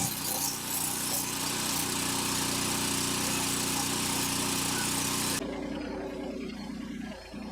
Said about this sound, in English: while it's on the ground, I'm gonna weld this up.